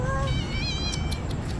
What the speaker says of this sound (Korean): 기찻길 옆 고양이가 있습니다